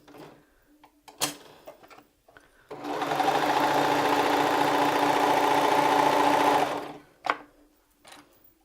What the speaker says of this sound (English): now we're going to stitch them together with our serger